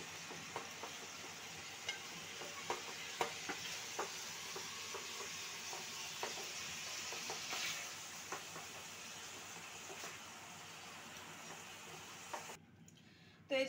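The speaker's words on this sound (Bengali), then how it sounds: "মাংসটা কিন্তু আমার এখানে ভাজা হয়ে গেছে" Chicken pieces fry in a pan with a faint, steady hiss and sizzle, broken by scattered light scrapes and clicks of stirring, ending with a brief louder knock.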